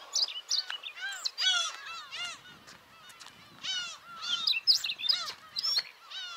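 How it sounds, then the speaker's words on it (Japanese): Seabirds on Teuri Island, Japan, call loudly in busy overlapping bursts of sharp honking and chirping cries, clear and close, with brief quieter pauses between outbursts and no voices. "素晴らしい小鳥の鳴き声を聞いてもらってます。"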